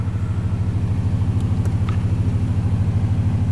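A 1998 Chevy Vortec truck engine idles roughly after ten years off the road, with a steady, loud low rumble and an uneven pulsing beat close up and no voices.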